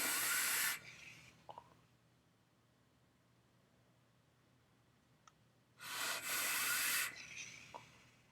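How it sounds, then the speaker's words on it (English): Vanilla custard e-liquid with caramel and brown sugar notes, exhaled as vapour in two loud, breathy hissing bursts, one at the start and one near the end, separated by a long, nearly silent pause. "Vape it up."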